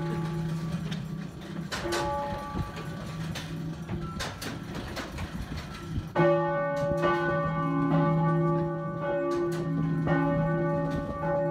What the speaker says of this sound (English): to witness the mechanism that operates the bells and chimes in full action